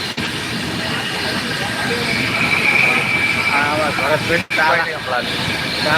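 A train runs along the rails with a steady loud rumble and rattle, and a faint thin squeal rises partway through, close by and continuous.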